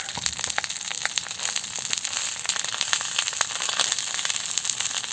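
Firewood burns in a cooking fire used for frying fish, giving a dense run of sharp crackles and quick pops, close and fairly quiet, with no talking.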